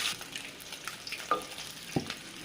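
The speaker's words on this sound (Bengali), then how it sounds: "ডিমগুলো দিয়ে দিলাম। হালকা দিয়ে ভেজে নেব।" Eggs fry lightly in oil in a pan while an egg and mango sour curry is being made, giving a faint, soft crackle with scattered small pops and sputters.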